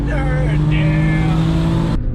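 A 2015 BMW M3 F80 engine pulls hard, heard from inside the car on a ride-along: a loud, sustained droning note with strong harmonics that shifts slightly in pitch, then cuts off abruptly.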